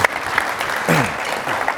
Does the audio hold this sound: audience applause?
yes